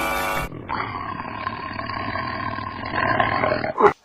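A tiger roar sound effect opens with a short burst of noise, then swells into one long, loud growling roar that builds and ends in a sharp final grunt, standing alone without other sounds.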